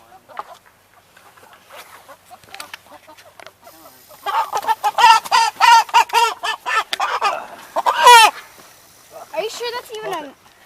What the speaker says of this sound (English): these are all meat birds, Holly